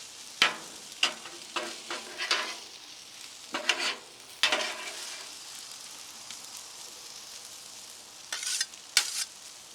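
Pork fried rice sizzling on a Blackstone griddle while a spatula scrapes and stirs, sharp metallic strikes and scrapes repeating irregularly over a steady frying hiss.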